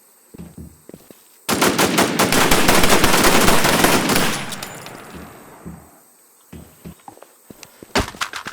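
Heavy automatic gunfire from an online battle-royale shooter game, Infestation The NewZ, bursts in loud and sustained for about three seconds of rapid shots, then fades, with scattered footsteps and thuds before and after.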